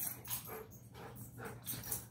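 A recovering pet dog carrying a shoe and a toy pig makes soft, quiet whimpering noises in a few close, short bursts.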